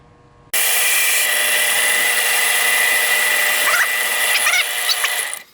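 A small power tool whirs steadily and loudly for several seconds, spinning the tires of a pinewood derby car to rub them flat, with a slight wavering pitch near the end before it winds down.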